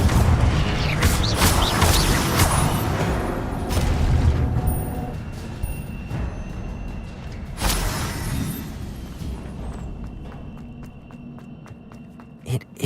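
Spells being cast in Hogwarts Legacy produce a series of booming magical bursts and crashes, with sharp impacts standing out above a dense, rumbling game soundscape.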